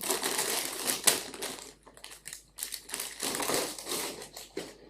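Surgical gloves being changed before closing a port-catheter (PICC port) procedure: close crinkling and snapping of latex or nitrile, with irregular rubbery rustles and brief pauses.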